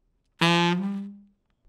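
A jazz saxophone plays a tongued "Duden" articulation: a single sustained note that starts sharply and then fades, played close and alone with no voice.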